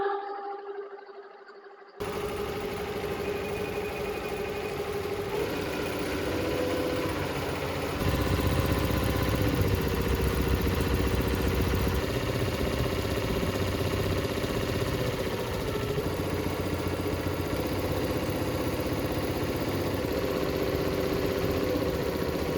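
A Rainbow embroidery machine stitches a pattern on a flat embroidery frame, its steady mechanical drone and vibration running loud and continuous, a little heavier after the first seconds, with no talk over it.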